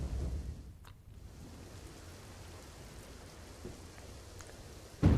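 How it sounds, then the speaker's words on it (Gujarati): Heavy downpour at Nadabet in the Banaskantha desert on the India–Pakistan border, a steady hiss of falling rain throughout with a couple of brief sharper knocks. "નડાબેટમાં ધોધમાર વરસાદ"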